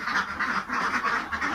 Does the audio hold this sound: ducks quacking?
yes